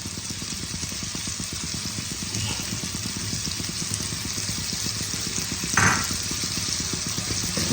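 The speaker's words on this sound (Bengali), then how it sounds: "দেখো মশলার সাথে গোবিন্দভোগ চালগুলো ভালো করে ভেজে নেওয়া হয়ে" Gobindobhog rice frying with spices in hot oil for a Bengali muri ghonto, a steady low sizzle with faint stirring scrapes and one louder stir or splash near the end, no talking.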